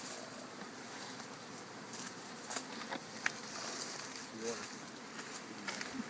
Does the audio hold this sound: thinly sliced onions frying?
no